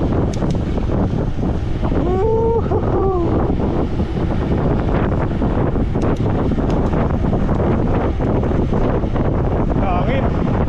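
Strong wind buffets the microphone during a ride past a lookout station, a constant loud rushing roar that fills the whole stretch, with faint bits of voice under it.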